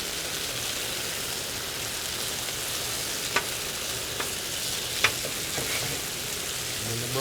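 Onions, ginger and garlic fry on a hot Blackstone griddle with a steady, loud sizzle, broken by a few sharp scraping clicks from a spatula.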